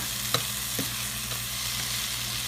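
Vegetables frying in a teaspoon of olive oil for a steak and cheese, a constant hissing sizzle with a couple of soft utensil ticks, close up and without speech.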